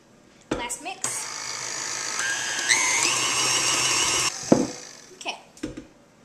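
An electric mixer whirs through cocoa cake batter for about three seconds, its motor pitch stepping upward mid-run, with brief bumps and scraping before and after.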